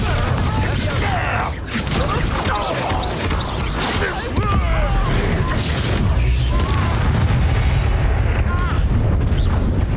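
Bombarda explosion spell blasting during a Hogwarts Legacy duel, with booming impacts and crackling debris under shouted spell names and character voices.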